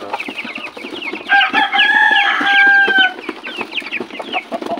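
Backyard broiler chickens, about a month old, cluck steadily in a flock, with one loud crow rising in the middle; the sound is close and fairly clear.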